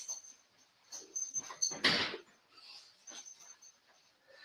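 A pet dog whimpers indoors in a few soft, high whines, with one louder rustling scuffle in the middle; faint overall and close by.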